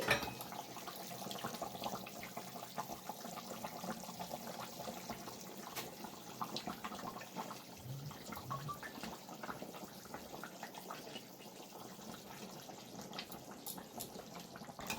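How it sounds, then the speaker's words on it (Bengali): Rohu fish pieces go one at a time into a pot of boiling Bengali rui macher jhol curry. Steady bubbling hiss runs throughout, with small soft splashes and clinks scattered over it, close by and with no talking. "মাছের ঝোল ফুটে গেছে, দেখতেই পাচ্ছেন। আমি এবার একটা একটা করে মাছ দিয়ে দিচ্ছি।"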